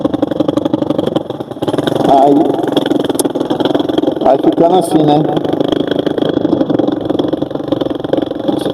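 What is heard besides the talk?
Chinese motorcycle revving with aftermarket exhaust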